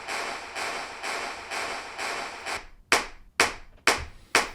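A recorded clapping track plays back during a studio breakdown of a song: first a steady run of reverberant claps, then drier, sharper hand claps close and loud in an even rhythm, with no voices.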